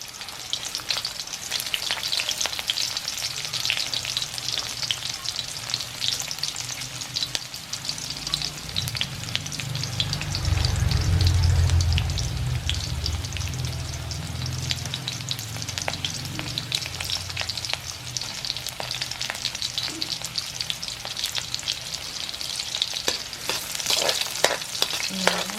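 Garlic fries in a pan with a constant dense sizzle and crackle, joined midway by a low rumbling thump and scraping as it is stirred, staying close and fairly loud throughout.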